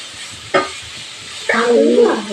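Ghee sizzles in a non-stick pan while pumpkin kheer is prepared: a brief clatter, then a louder sustained frying hiss with stirring over the final second, close by and without talk.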